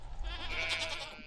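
A single sheep bleat from the farm in Stardew Valley, short and fairly close, with a steady low game hum beneath it.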